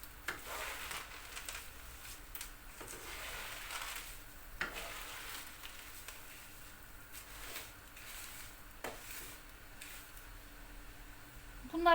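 Egg noodles frying in butter in a pan, a steady soft sizzle running throughout with occasional stirring scrapes and clinks, close and fairly quiet.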